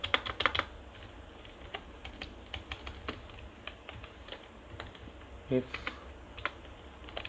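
PHP code being typed on a computer keyboard, a run of close, irregular key clicks with brief pauses and a few heavier taps, while a voice speaks quietly at times.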